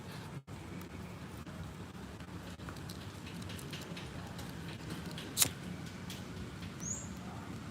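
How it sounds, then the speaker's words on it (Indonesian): Steady light rain hissing evenly over an outdoor fish-feeding spot in the late afternoon, faint and continuous with a few brief knocks and drips, no voices. "Wah hujan guys."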